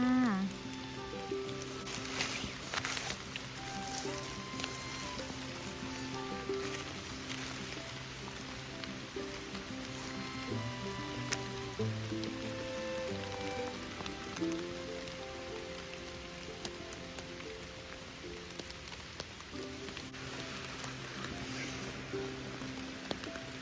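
Rain falling in a forest during a mushroom-gathering trip, a steady soft patter across the canopy that continues evenly for the whole stretch, fairly quiet and without talk.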